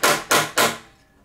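Three sharp, loud hammer knocks in a steady rhythm on hard plastic clamping building bricks, each ringing briefly before the last fades into quiet.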